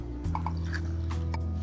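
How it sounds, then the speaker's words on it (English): Coffee poured over ice in a glass while making an iced mocha, a faint liquid trickle with small clinks over a steady low background hum. "And now pour your coffee"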